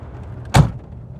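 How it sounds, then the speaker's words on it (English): A single solid thump as the door of a 1932 Ford sedan is slammed shut, close and sharp, with a short dull ring-off in an otherwise quiet space. "open up your door and slam it shut real good there"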